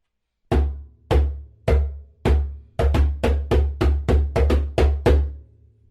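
Djembe bass tones played by hand with the stroke rebounding off the drumhead: four slow, evenly spaced deep thumps, then a quicker run of about eight more, each a booming low hit with a short ring, close and alone.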